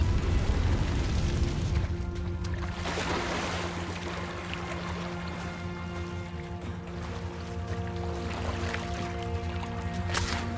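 A Confringo fire spell blasts in Hogwarts Legacy, a low rumbling boom over a dense, roaring game backdrop that stays loud and steady for the whole stretch, with sustained droning tones layered underneath.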